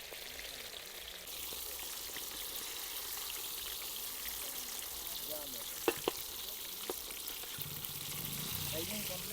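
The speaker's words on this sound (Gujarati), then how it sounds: "તેલ થઈ ગયું તો આપણે હવે ફ્રાય કરવા પાપલેટ નાખી દઈશું." Pomfret fish frying in hot oil, a steady hissing sizzle that stays even throughout, with a few brief clinks near the middle and faint voices in the background.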